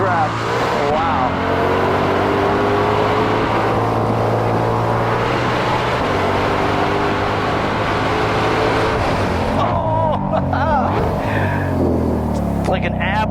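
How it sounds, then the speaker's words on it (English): Ford Shelby GT500 (2020) lapping the COTA track, engine roaring continuously with rev-matched blips on downshifts, loud inside the cabin under excited voices over an intercom. "listen to rev matching"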